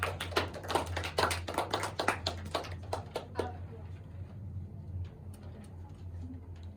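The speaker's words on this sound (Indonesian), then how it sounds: "Tepuk tangan untuk yang sudah berani untuk maju." Classroom students clap their hands for a few seconds in a quick, uneven burst that stops abruptly, leaving quiet room hum and a faint voice.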